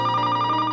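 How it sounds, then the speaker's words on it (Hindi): A telephone rings with a steady electronic bell tone in a short, sustained burst, clear and close. "फोन की घंटी।"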